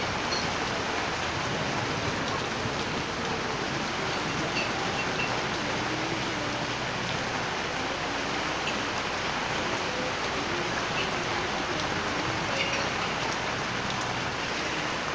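Steady rain falls across the whole stretch in San Andres Bukid, a dense, even hiss with no pauses and no one speaking.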